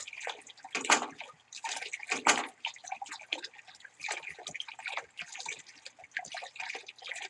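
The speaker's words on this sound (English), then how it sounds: "Is the faucet busted?" Water dripping from a busted faucet in the horror game The Crooked Man, heard as a run of close, irregular drips and splashes, fairly loud and with no talking over them.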